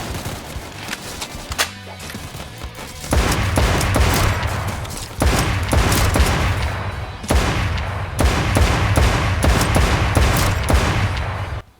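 FN FAL rifle firing in the Roblox zombie shooter The Undead Coming: loud, close bursts of rapid gunfire that repeat over and over with short pauses between them, along with heavy booming impacts.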